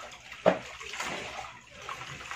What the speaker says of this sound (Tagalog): Ang lamig pala ng tubig kapag naglalaba guys mo.